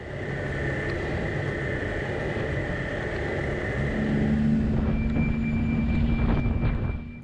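A snowmobile engine drones steadily on a groomed but bumpy trail in Charlevoix, loud and close, with the pitch rising slightly partway through as the machine speeds up.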